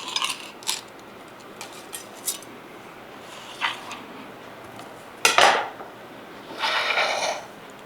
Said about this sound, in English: And then we'll just place it on our plate.